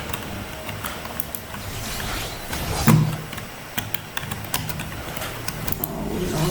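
A car engine in the Fortnite video game hums and rises in a short rev around the middle, with mechanical clunks scattered throughout and no voices.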